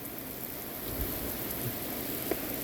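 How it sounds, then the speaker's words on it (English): Steady, dense rain hisses continuously, a broad wash of falling water with no voices. "it is actually super pouring down right now"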